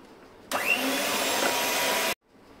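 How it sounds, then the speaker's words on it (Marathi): An electric beater whips cream on its first speed, a steady loud whirring drone that starts abruptly, holds for about a second and a half, and cuts off sharply, with no talking. "व्हिपिंग क्रीम आपल्याला आता बीटरच्या सहाय्याने बीट करून घ्यायचे। मी फर्स्ट मोड वरती हे 1 मिनिटभर बीट करून घेते।"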